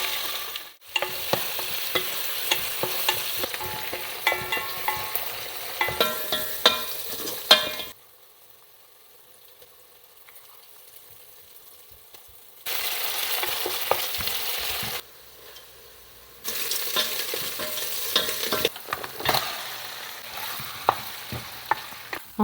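Bagara rice frying in oil with biryani masala, loud sizzling with stirring scrapes that drops to near silence partway through, then returns in bursts.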